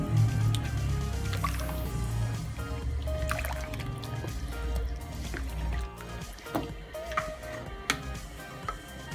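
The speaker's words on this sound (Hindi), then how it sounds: "डालना है हमने इसमें सोया सॉस, दो टेबलस्पून" Two tablespoons of soy sauce are poured into a pot of chicken vegetable soup, a soft liquid trickle and squishy dripping under a low kitchen hum, with a few faint taps near the end.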